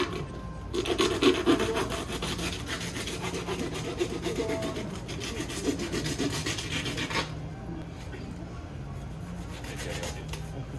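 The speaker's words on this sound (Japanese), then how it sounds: "頭もノコギリで落としていきますね" A handsaw rasps back and forth through a tuna's head in a steady rhythm, close by, with faint voices in the background.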